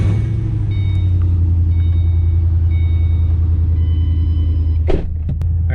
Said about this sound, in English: Just turned the car on